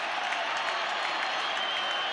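Dense, steady applause from a large stadium crowd at a 1989 rugby league play-off between Cronulla and Brisbane, a continuous wash of clapping at moderate distance with a faint murmur of voices mixed in.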